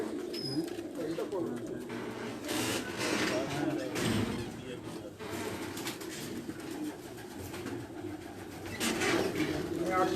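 Chinese pigeons coo steadily at a loft among other birds, the low murmuring calls continuous and fairly close under a noisy outdoor background.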